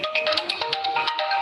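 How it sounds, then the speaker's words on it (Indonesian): A phone's ringtone plays an incoming-call melody. Repeated bright electronic tones run steadily for the full moment, fairly loud, with no talk over them. "Sorry ya, ada telepon dulu."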